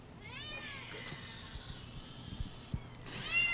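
A young kitten from a litter of five at a pet shop meows twice, a long rising-falling cry at the start and a shorter one near the end, close and clear over faint background noise.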